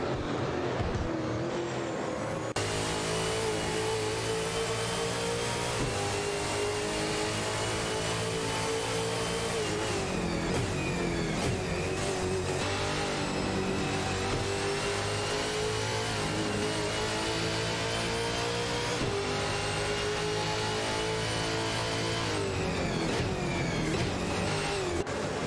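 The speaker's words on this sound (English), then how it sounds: "there's a competitive skirmish for the 19th position between Super Lacroix in a Nissan Altima and Sirionbot driving a Ford Mustang" Engines of race cars, including a Nissan Altima and a Ford Mustang, in an AI racing video game, droning and revving continuously with shifting pitch as the cars jostle for position, steady and loud throughout.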